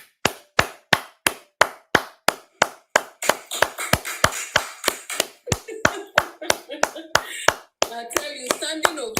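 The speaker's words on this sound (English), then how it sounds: "me wanna clap for this platform," A steady run of sharp hand claps, loud and close, evenly spaced at first, then continuing under excited talk and other noises toward the end.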